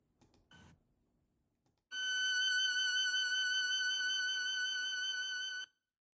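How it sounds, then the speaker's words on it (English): A bowed string instrument played arco holds one smooth, sustained tone for nearly four seconds, steady in loudness and ending cleanly. A few faint knocks come just before it begins. "And here is the sound of arco."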